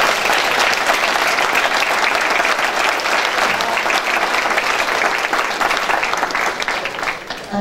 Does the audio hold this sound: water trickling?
no